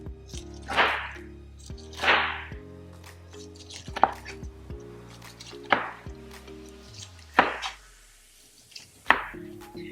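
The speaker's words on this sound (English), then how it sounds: "when you're peeling this pineapple, you just want to look for where the brown spots are" A razor-sharp knife works down a pineapple to peel off its rind, giving about six separate slicing strokes, each a close, sharp swish ending in a soft thunk on the board. Light kitchen noise fills the gaps between strokes.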